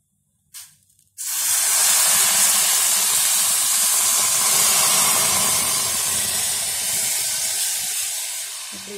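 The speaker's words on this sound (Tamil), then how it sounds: "இப்போ இதுலேயே இப்போ இந்த தண்ணியை ஊற்றிடலாம்." Water is poured into hot roasted semolina for rava kesari, starting with a brief clink then erupting into a loud, sustained sizzle and hiss of steam that slowly eases toward the end.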